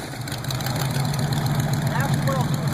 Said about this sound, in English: What I'll do is I'll start it up for you now.